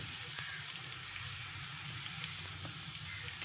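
Asafoetida dropped into hot oil gives a steady, close crackling sizzle with a broad hiss that holds evenly throughout, no voices over it.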